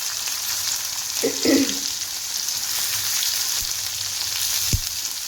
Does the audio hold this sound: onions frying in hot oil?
yes